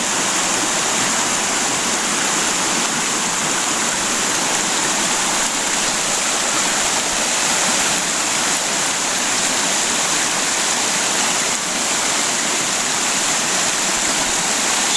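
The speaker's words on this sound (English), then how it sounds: "I've got my little trap sluice set up. Looks like it should run pretty good." Water rushes steadily through a small trap sluice set in the East Fork San Gabriel River, a loud, unbroken wash of flowing water with no voices.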